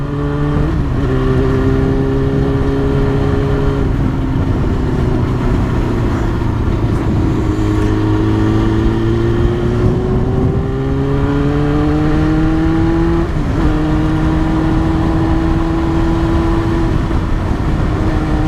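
A loud Yamaha R6 motorcycle engine with a baffleless exhaust droning steadily up close, its pitch rising and dipping as the rider shifts and accelerates, with no voices.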